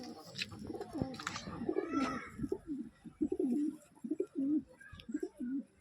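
Pet pigeons at a home loft coo close by in a series of soft rolling calls with short pauses between them, with a few brief higher sounds early on.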